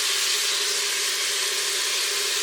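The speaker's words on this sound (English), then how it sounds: "we're going to let that saute" Chicken sautéing in an Instant Pot gives off a steady, loud hiss and sizzle that holds evenly throughout with no talking over it.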